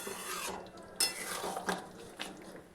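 Mutton curry being stirred and browned in a pot, with a metal spoon scraping and clinking in three sharp bursts over a softer continuous stirring shuffle, close and without talk.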